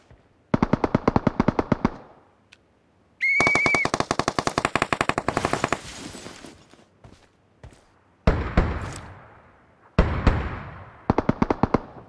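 Bursts of automatic gunfire from the mobile battle-royale game BGMI, loud rapid volleys of shots with short gaps between them, a brief weapon-handling sound, and several separate firing bursts near the end.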